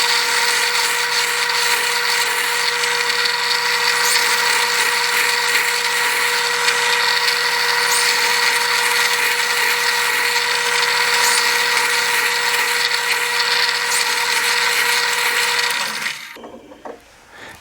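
Steady drill whine boring string-through holes into an oak electric guitar body, running continuously and fairly loud for about sixteen seconds before stopping abruptly, leaving brief quiet handling noise.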